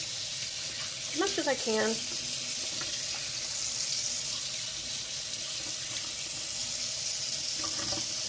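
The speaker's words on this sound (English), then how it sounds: "So I always take these out and rinse them" Frozen food being rinsed under a running kitchen tap: a steady hiss of flowing water fills the whole stretch, with a person briefly talking over it near the start and again at the end.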